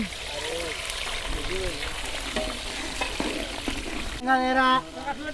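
About one and a half kilos of onions sizzle steadily in a pot for chicken curry, a continuous frying hiss under people talking, with a brief clatter of stirring near the end.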